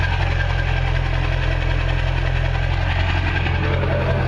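A Ford F250 idles on a cold morning with no muffler, producing a loud, steady low exhaust drone with a slight knocking pulse, close and continuous.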